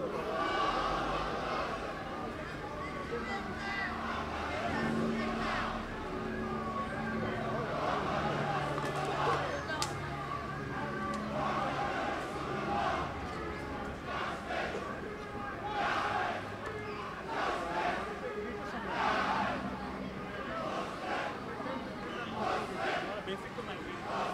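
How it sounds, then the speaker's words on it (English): Large crowd at a street demonstration outside an embassy protesting the massacre of Rohingya Muslims, chanting together in loud rhythmic waves with babble and shouting throughout, heard from close within the crowd. "everyone is chanting justice, justice"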